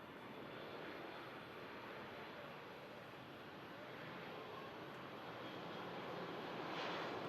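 A propeller aircraft at Manchester Airport, its steady broadband engine roar filling the air and slowly growing louder as it nears, with no talk.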